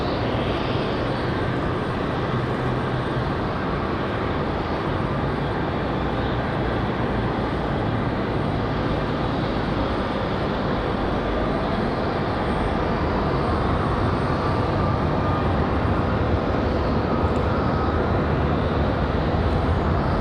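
A Spirit Airlines airplane at Raleigh-Durham International Airport, bound for Newark, fills the air with a steady broadband jet roar that stays level throughout, heard from a distance outdoors on a breezy day.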